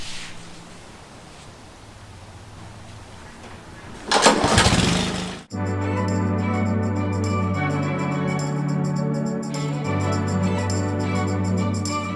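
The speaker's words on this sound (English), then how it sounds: "So let's get to mowing." After a brief rustle, a lawn mower engine starts up and settles into a steady, loud, droning hum that continues close by.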